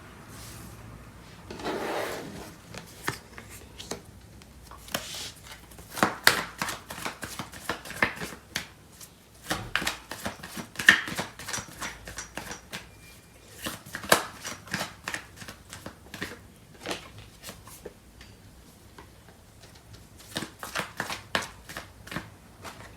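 Tarot cards are shuffled close up in uneven bursts, with soft rubbing slides and sharper riffled clicks that come and go between short pauses, and no voices are heard.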